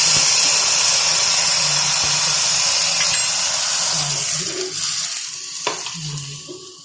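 Water hits a hot tempering of curry leaves in a pan for tomato rasam, a loud rushing hiss and sizzle that slowly fades and settles into softer bubbling.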